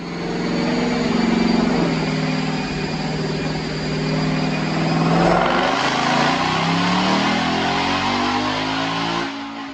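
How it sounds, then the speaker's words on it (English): A 2021 Mustang GT with a Roush Phase 2 supercharger roars through a full dyno pull, engine climbing steadily in pitch, easing off partway, then surging again before cutting off, loud and alone. "Check out this dyno pull."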